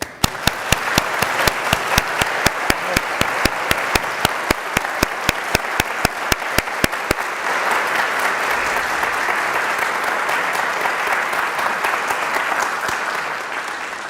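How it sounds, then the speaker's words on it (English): Audience applause at a book festival, a dense, loud wash of clapping with sharp, regular claps near the microphone for the first half before settling into an even crowd roar. "I just want to give you a round of applause."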